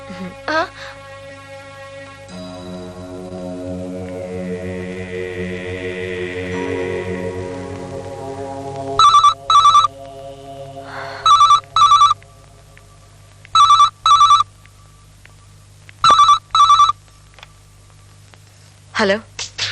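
A telephone rings with a classic trilling bell in five paired bursts, loud and close, following a quieter stretch of held tones and background murmur.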